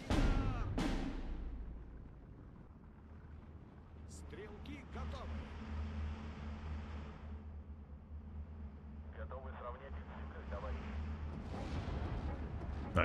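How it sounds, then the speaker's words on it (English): Mortar rounds landing in the World War II strategy game Steel Division 2, with a sharp blast at the start and another soon after, followed by rumbling battlefield noise and scattered impacts, while someone talks over it. "I got another bunch of shots coming down from the mortar"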